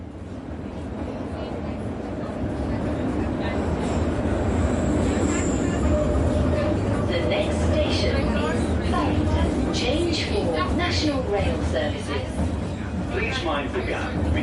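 A London Underground tube train running through the tunnel, a loud continuous rumble and rattle of wheels with a brief high whine, under platform announcements and talk.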